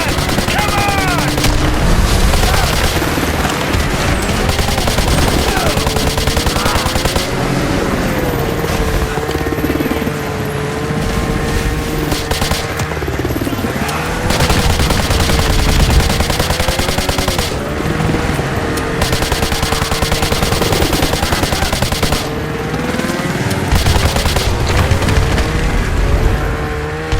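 Sustained machine-gun fire and explosions from the combat video game Call of Duty: Modern Warfare 2, loud and continuous with bursts layered over a droning helicopter, while voices shout over the battle.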